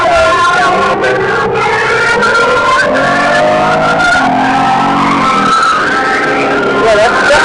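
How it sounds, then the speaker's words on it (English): A loud, continuous car engine roars and revs steadily, with rising and falling pitch and tire squeal, filling the whole clip without pause. "Oh man, this motor is sounds good."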